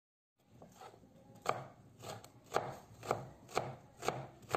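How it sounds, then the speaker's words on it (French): A knife dices a red bell pepper into small cubes on a cutting board, giving steady, evenly spaced close thumps that start after a moment of silence. "Ici, j'ai un poivron rouge. Je le coupe en petits cubes."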